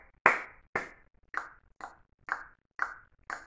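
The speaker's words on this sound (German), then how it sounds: "Klatschen in die Hände" Hands clap seven times in an even, unhurried rhythm, each clap crisp and close with a short decay, the first one loudest and the rest slightly softer, with no talk over them.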